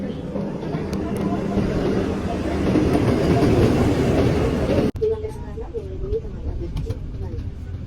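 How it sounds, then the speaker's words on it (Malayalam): A Vande Bharat Express train at a station in Kerala, with a loud rumbling roar and rail clatter that fills the first part, then cuts abruptly to a quieter hum with a faint voice. "സ്റ്റേഷനിൽ നമ്മൾ വന്ദേ ഭാരതിൻ്റെ ട്രെയിനിൽ പോവാം."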